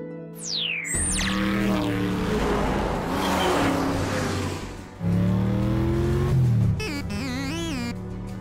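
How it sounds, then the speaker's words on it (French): Cartoon car engine as the Transformers Rescue Bots character Bumblebee drives, revving up loudly with a whooshing start and a surging, shifting engine roar through the middle, then a burst of higher robotic chirps near the end. "tu es très agréable à conduire, Bumblebee. Puissant, rapide et souple."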